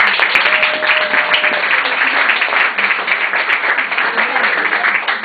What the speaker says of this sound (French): Donc, applaudissons pour notre Seigneur